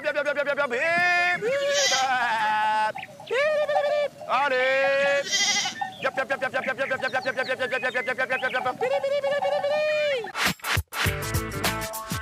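Sheep bleating in a Vercors mountain setting: a run of wavering, drawn-out bleats close by, with voices talking over them and a sharp rustling burst near the end.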